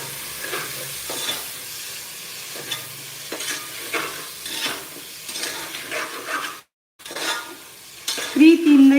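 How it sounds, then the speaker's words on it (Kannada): Tomatoes frying and being stirred in a pan while cooking tomato rice bath, with steady sizzling and repeated scraping stirs throughout, close by and moderately loud. "ಇವಾಗ ಟೊಮೊಟೊ ಹಾಕ್ತಿದ್ದೀನಿ ಟೊಮೊಟೊನ ಚೆನ್ನಾಗಿ ಫ್ರೈ ಮಾಡ್ಕೋಬೇಕು"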